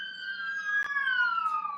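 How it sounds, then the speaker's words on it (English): A muffled siren wails outside in one long tone that slowly falls in pitch, steady and fairly quiet, with a brief sharp click partway through. "maybe the muffled sound that you didn't hear it. That was a siren."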